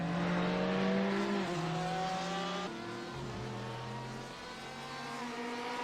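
Ferrari GT race car engine in a sim racing game at Virginia International Raceway, a loud sustained high-pitched engine note with rising revs, a sharp gear change and continued acceleration, no voices.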